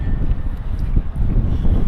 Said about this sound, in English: Today it's a very windy day.